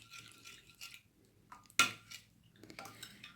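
Castor oil is mixed with onion juice in a bottle, giving faint sloshing and rubbing sounds, one sharp clink against the container, then more quiet handling and scraping up close.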